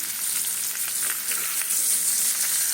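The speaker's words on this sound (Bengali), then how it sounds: "সুন্দর করে কড়া করে ভেজে নিতে হবে পটলটা" Pointed gourd (potol) seasoned with salt and turmeric frying crisp in hot oil, a steady close hiss of sizzling with small crackling pops throughout, no voices.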